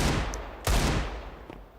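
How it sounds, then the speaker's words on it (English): Silenced M4 fire in a Counter-Strike esports match, a couple of quick muffled shots with a whistling crack, close and brief, over a constant game background. "That silenced M4, whistles a couple of bullets past Apex"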